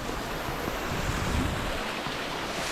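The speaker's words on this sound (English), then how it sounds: "I do hear what sounds like a waterfall coming from that direction." A distant waterfall in a mountain valley produces a steady, broadband rushing roar with some wind mixed in, continuous and unbroken, with no voices.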